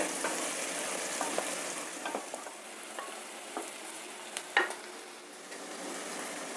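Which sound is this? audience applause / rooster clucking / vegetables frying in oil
vegetables frying in oil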